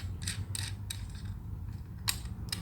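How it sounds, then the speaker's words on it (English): Bolt being removed from an ATV taillight assembly, quiet close ratcheting clicks and metallic creaks in short irregular bursts over a low background hum. "you're going to want to take the bolt that's in the middle off"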